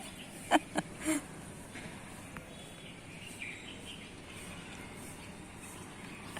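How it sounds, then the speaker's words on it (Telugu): Burupitta birds calling in a backyard: a few short, sharp chirps near the start, then only faint, sparse calls over a quiet outdoor hum. "బురిపిట్టలు మాత్రం భలే సౌండ్లు చేస్తూ ఉంటాయండి"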